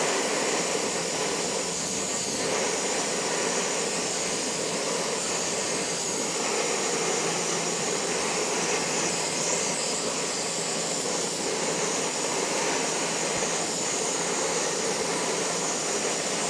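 A Primus eta Express gas stove and a cheap mini camping stove burning side by side outdoors, a steady, close, roaring hiss that stays constant and unbroken throughout.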